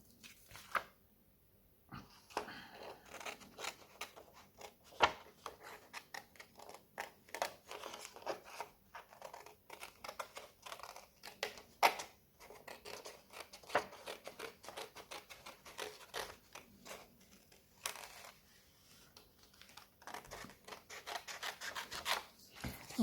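Scissors snip through a paper background for an art journal page in a steady run of close, crisp cuts and rasping slides. The cutting goes on without pause and no one speaks.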